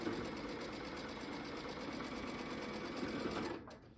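A sewing machine stitches a seam on an Ohio Star quilt block, its fast steady motor hum and needle rhythm running close and continuous before stopping near the end.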